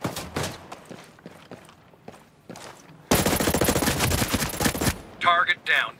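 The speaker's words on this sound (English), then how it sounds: "Hostiles are shooting." Automatic gunfire in the tactical shooter game Ghost Recon Breakpoint during a PVP match: a dense, loud burst of rapid shots lasting about two seconds follows quieter scattered taps and footsteps, with a brief voice near the end.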